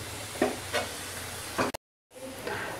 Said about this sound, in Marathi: हे चांगलं पहिले ऑइलमध्ये चांगलं फ्राय करून घेणार आहोत